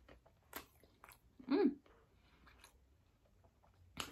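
Someone chewing a Burger King burger with two meat patties, pickles, onions, lettuce and sauce: soft close-up wet chewing with one louder crunchy bite in the middle, quiet and intimate.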